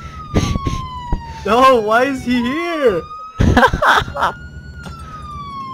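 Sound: ambulance siren in video game Garry's Mod

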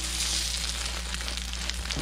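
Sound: egg on bread frying in a pan

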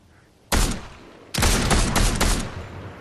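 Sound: gunfire in the video game Fortnite

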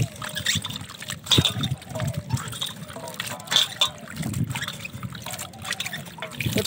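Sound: potatoes being washed in water

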